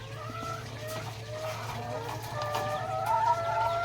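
Laying hens cluck in a poultry layer house, with soft, repeated calls over a steady low hum and some background rustling.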